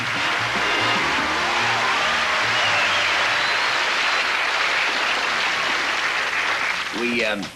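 A large audience applauds at a 1981 television tribute show for Jack Benny, a loud continuous roar of clapping with a few voices emerging near the end.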